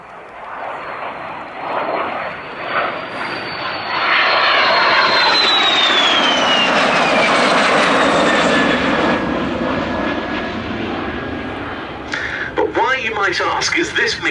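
A MiG-15 jet flies past at the Duxford Summer Airshow with a loud, sustained engine roar and a whine that swells, bends and fades over several seconds as it goes by, while a commentator talks over it.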